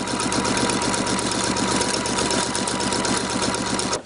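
Steady, close mechanical whir of a sewing machine running a straight stitch around a ruffle edge, rapid regular needle pulses throughout, stopping right at the end.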